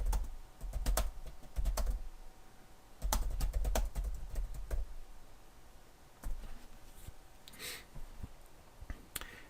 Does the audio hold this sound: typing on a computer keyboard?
yes